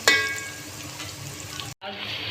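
Minced meat fries with golden-browned onions in a pan, giving a steady moderate sizzle with a brief clatter at the start and a short gap near the end.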